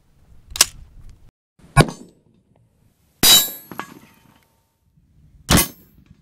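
M80 ball rifle rounds striking a 3/8-inch AR400 steel plate: four sharp metallic clangs spaced about a second apart, each followed by a short ringing decay, loud and isolated against near silence.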